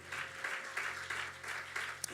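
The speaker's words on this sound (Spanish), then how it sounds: "Dan un aplauso por favor bien fuerte al Señor" Steady applause from a church congregation, sustained clapping with rhythmic swells throughout and a sharp clap near the end.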